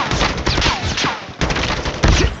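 Call of Duty gunfire rattles in loud, rapid bursts with short gaps between volleys, sharp shots stacked close together.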